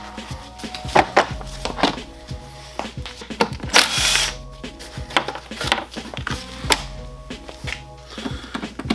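Metal clicks and clinks of M6 nuts being worked loose from the seat mounting of a Honda XR200R dirt bike, a scatter of close, sharp taps and scrapes with short gaps between them.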